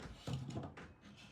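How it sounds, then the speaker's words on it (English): A cat pushes open a closet door, giving a short soft knock and creak of the door swinging, close and quiet, with a faint rustle afterward. "Now I have a cat trying to push the door open."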